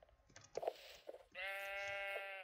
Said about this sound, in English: Also got sheep